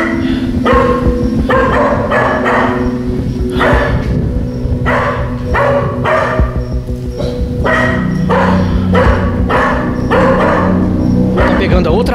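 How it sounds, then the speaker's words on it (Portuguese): Several dogs bark persistently near a house at night, with repeated bursts of barking over a steady loud background hum, fairly close and continuous. "que eles estão latindo muito, certo?"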